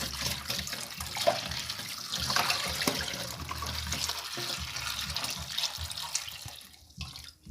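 Potatoes being washed by hand under a running kitchen tap, a steady splash of water in a sink with small knocks and rubbing as they are handled, close and fairly loud, easing off near the end.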